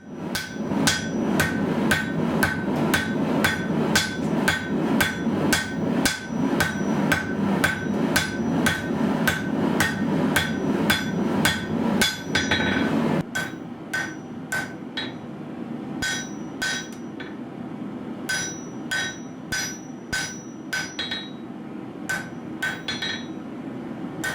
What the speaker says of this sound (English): During the drawing, I'm hammering really hard